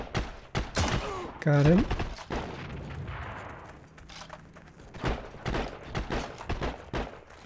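Gunfire in the WWII shooter Heroes and Generals, infantry combat: sharp shots and bursts crack through the first half with quieter distant fire later, under brief talk.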